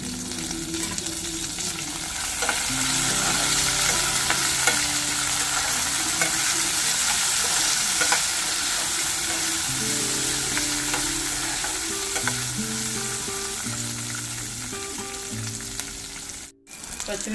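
Green chilies, cumin and curry leaves fry in hot oil with a loud, continuous sizzle and crackle, stirred now and then, while faint background music plays underneath.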